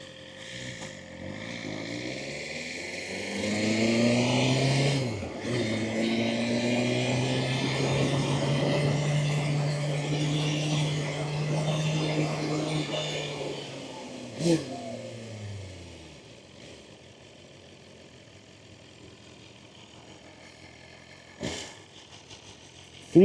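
Sport motorcycle engine on a ride, a loud steady drone with rising pitch bands as it pulls, then dropping to a low idle mumble near the end, with a couple of sharp knocks.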